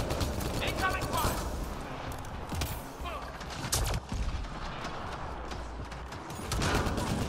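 Rapid gunfire crackles through a Mass Effect multiplayer match, bursts of sharp shots and a few louder bangs layered over game noise, with a player talking throughout.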